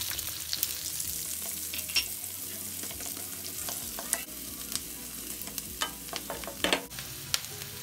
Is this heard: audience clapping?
no